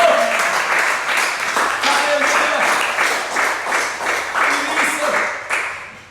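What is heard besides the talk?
church congregation applauding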